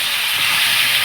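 Chicken pieces frying in a pan for Bengali chicken biryani, a steady loud hiss and sizzle close up, continuous and alone.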